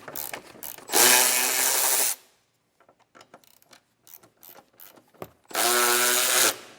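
Power tool spinning a 1/2-inch (13 mm) socket to remove nuts during a Curt Class III trailer hitch install on a 2018 Dodge, two loud whirring bursts of about a second each, separated by quieter clinks and handling noise.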